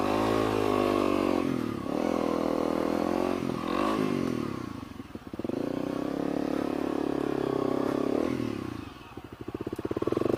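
A dual sport motorcycle stuck in mud revs hard and repeatedly, the engine rising and falling in pitch close by as the wheel spins and churns, with brief drops between bursts.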